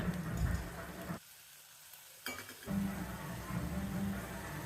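Onion and tomatoes are sautéed in a pan for green peas kurma, with soft sizzling and stirring scrapes that stop for about a second, then resume with light clinks.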